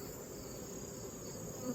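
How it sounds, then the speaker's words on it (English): Honey bees hum steadily around a beehive set near pollinator plantings, a faint, continuous buzzing drone with no voices. "these bees are bringing in pollen right now."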